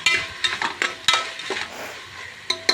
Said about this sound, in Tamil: அதோடு போட்டு நல்லா பரட்டி எடுங்க காயும் கொஞ்சம் நேரம் வதங்கட்டும்